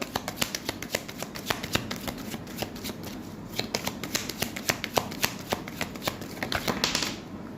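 Tarot cards shuffled by hand for a Hindi love reading, a steady run of crisp riffling clicks and soft slaps that continues close and fairly loud with no talk throughout.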